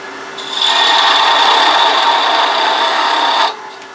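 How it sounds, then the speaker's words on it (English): A beading and parting tool cuts bulk wood on a lathe while turning a chess king. It makes a steady, loud, close scraping hiss for about three seconds, then stops abruptly, with no talking. "I'm just mostly doing bulk wood removal"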